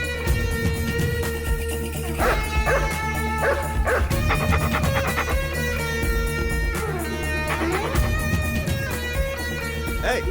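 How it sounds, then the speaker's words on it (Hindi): A dog barks repeatedly in an action film scene, loud yips and bow-wow barks in irregular bursts over a dense musical background, with some whimpering mixed in. "अरे कुत्ता क्यों भौंक रहा है?"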